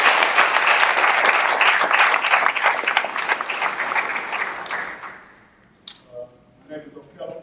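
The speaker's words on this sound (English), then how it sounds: "Give them a round of applause." An audience at a school production of Julius Caesar applauds loudly after the performance, the dense clapping fading out after about five seconds before a few voices speak.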